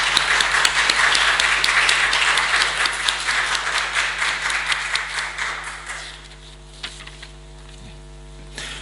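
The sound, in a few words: congregation applauding to welcome visitors at church service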